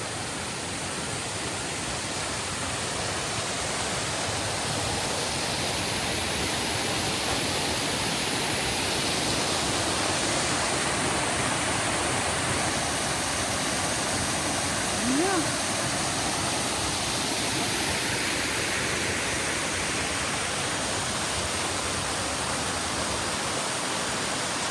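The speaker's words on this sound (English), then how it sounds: "But at least it's starting with a pretty waterfall" Waterfall on the Appalachian Trail, a steady, broad rushing roar of falling water that stays constant and close throughout.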